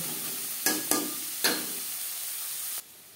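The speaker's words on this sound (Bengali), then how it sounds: "পেঁয়াজ ভেজে নেব।" Onions frying in a pan for a saag bhaja, a constant sizzling hiss with three short stirring scrapes near the start before the sound cuts off.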